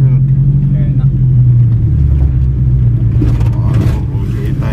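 A Mitsubishi Galant drag race car being readied for a drag race, its engine holding a deep, steady low rumble that swells and roughens toward the end, loud and close with people talking nearby.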